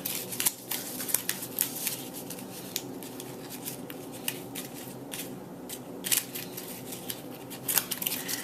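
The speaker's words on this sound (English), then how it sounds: "And then I just take my scissors and I cut it off." Scissors snip repeatedly at close range, cutting off a knot in muffin paper, a run of sharp crisp cuts scattered irregularly over a soft background hiss.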